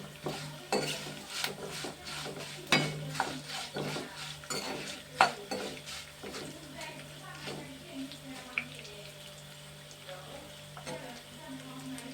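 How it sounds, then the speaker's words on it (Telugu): Curry leaves frying in a pan over a low flame, with soft sizzling beneath repeated close stirring clinks and scrapes of a utensil against the pan. "సిమ్లోనే పెట్టుకుని వేపుకోవాలండి ఇవి"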